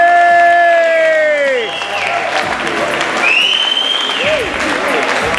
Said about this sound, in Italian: voglio l'applauso sentito.